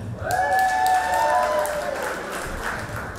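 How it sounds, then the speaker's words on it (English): Loud crowd applause at an Equality Florida gala in Palm Beach, a close, dense patter with a long whistle or whoop soaring above it before the clapping thins toward the end. "Or just keep clapping."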